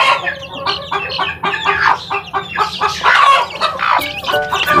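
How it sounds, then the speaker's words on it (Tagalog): Chickens and roosters clucking noisily together, a dense overlapping chorus of calls close by, continuous and fairly loud. "maingay yung aking manok"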